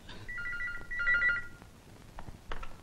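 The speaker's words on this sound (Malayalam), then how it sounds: "ഫ്രെഡി, ഫോൺ എടുക്ക." A telephone rings indoors in two short bursts of repeated electronic trills, fairly clear and close, then falls quiet with only faint room noise and a few soft knocks.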